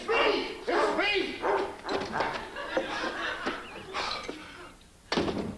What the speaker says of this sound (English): Would someone please tell that dog I live here?